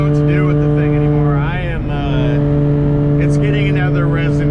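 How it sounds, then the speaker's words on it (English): A loud car engine and exhaust, due for another resonator, drones steadily with strong harmonic hum throughout, briefly swelling and wavering near the middle as revs shift, with a voice talking over it. "This car is so loud"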